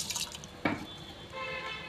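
Washed rice for tomato rice is tipped into a cooking pot, giving a brief wet pour and splash with soft liquid trickling afterward, close and moderately quiet against low kitchen background noise.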